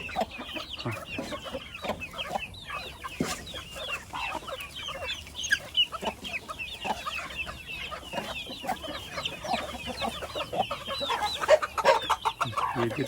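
Chickens, including a white Indian hen and a small rooster, clucking continuously while feeding on purslane outdoors, soft overlapping clucks and chirps at moderate distance with no talking.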